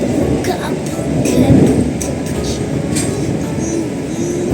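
Steady rumble of an Argo passenger train carriage on the Jakarta–Semarang route, heard from inside, with faint intermittent creaks and rattles over the continuous low roar; no talking.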